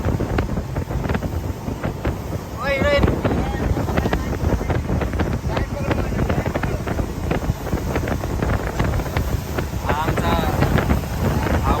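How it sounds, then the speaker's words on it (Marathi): A motorboat engine runs steadily out at sea off Alibag, its drone mixed with heavy wind buffeting the microphone, while people talk intermittently over it. "फायनली बोट चालू झाली आणि आम्ही चालले परत बीच वरती"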